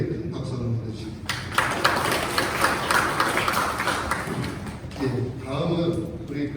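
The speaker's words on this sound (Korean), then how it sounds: "우리 김행정 교수님께 큰 박수 한번 보내주십시오." Audience at a city master-plan public hearing panel discussion applauds a professor after his remarks, a dense sustained clapping that swells and then trails off with scattered claps.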